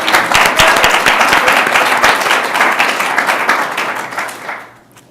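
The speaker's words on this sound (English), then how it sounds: "one big round of applause to Kumba Singers and to all of you" Loud, dense audience applause for the Kumba Singers at a celebration of Maya Angelou, sustained for several seconds before tapering off quickly near the end.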